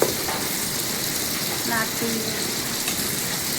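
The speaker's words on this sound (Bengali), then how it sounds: "এই যে পেঁপে আর আলু মিক্স করে ভাজি করতেছি।" Papaya and potato frying together in a pan give a steady, broadband sizzle with soft stirring scrapes, constant and close throughout, with no talk over it.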